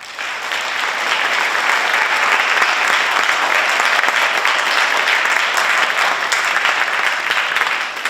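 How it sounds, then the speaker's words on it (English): Applause from the audience at a school orchestra spring concert, a full, loud burst of many hands clapping that swells in quickly and holds steady for several seconds before easing. "Can we get one round of applause before we actually begin the song"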